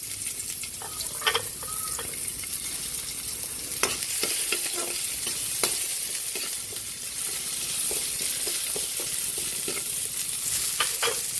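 Onion and garlic sizzle in a small amount of cooking oil for a Filipino sotanghon soup, a continuous close frying hiss with repeated clinks and scrapes of a stirring utensil against the pan.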